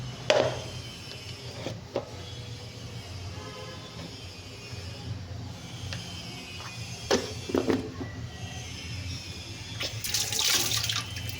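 Mutton head being washed in water in a home kitchen, with sloshing and splashing, a few knocks against the vessel, and a louder run of pouring water near the end, close and without talk.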